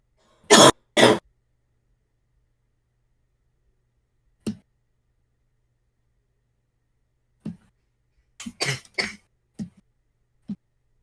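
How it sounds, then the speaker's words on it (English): Several harsh coughs and throat-clearing bursts close to the mic, two strong ones first, then scattered fainter coughs separated by silence. "Man, I'm tired of this fucking cough."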